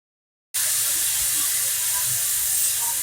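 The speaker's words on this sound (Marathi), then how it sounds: "कुकर लावून घेऊया। 5 ते 6 शिट्ट्या होऊस्तर आपल्याला छोले शिजून घेऊया।" After half a second of silence, a pressure cooker holding chickpeas lets out a loud, continuous hissing whistle of steam that holds steady to the end.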